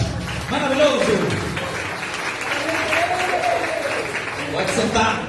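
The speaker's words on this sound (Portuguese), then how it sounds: "Aplauda a Jesus mais uma vez." A church congregation claps steadily throughout, a dense sustained round of applause with some voices and singing mixed in.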